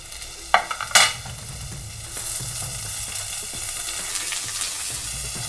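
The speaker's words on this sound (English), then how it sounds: "At this point we're going to cook all these veggies on a high flame." Vegetables and onions stir-fried over a high flame for Hakka noodles, with a couple of sharp clatters near the start and then a steady, close, loud sizzle of frying that continues to the end.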